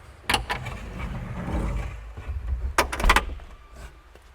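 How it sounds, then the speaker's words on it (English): Cab door on a Kubota U55 excavator swinging shut, a few sharp clunks and latch clicks close by amid low mechanical rattling. "close your door and you're locked in"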